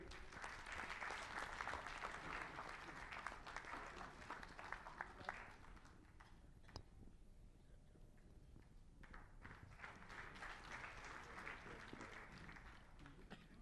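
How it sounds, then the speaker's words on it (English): Audience applause at a foundation day ceremony of the National Heart Institute in New Delhi, honoring a guest; steady clapping through most of the span, easing in the middle and building again toward the end, with faint talk mixed in. "A round of applause, ladies and gentlemen."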